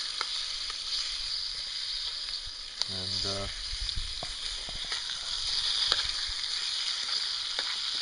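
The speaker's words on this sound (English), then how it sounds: "You saw how fast that stuff started to sizzle." Quiet, steady sizzling of bacon frying in a pan on a small wood stove, a soft continuous hiss with a brief thump partway through and a single short spoken word.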